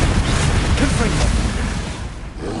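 A fiery Confringo curse in Hogwarts Legacy erupts as a loud, booming rumble that swells and then trails off, with someone speaking over the blast.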